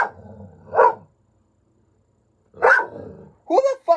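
A dog barks in a few loud, close bursts, with a long quiet gap between them, indoors near a computer setup.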